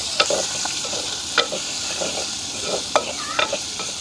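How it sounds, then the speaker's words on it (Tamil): Onion and green chili sauté in a pan, a steady sizzle of frying broken by several sharp scrapes and taps of a stirring spoon against the metal, close and clear with no talking. "வெங்காயம், பச்சை மிளகாய் எங்களுக்கு ஓரளவுக்கு வதங்கிட்டுது."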